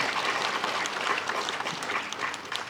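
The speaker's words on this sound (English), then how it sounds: "I think she deserves another round of applause." An outdoor audience at an inauguration ceremony gives steady, moderately distant applause for a young girl who has just sung, many hands clapping in a dense continuous patter.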